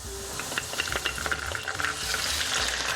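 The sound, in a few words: onions frying with garlic and ginger paste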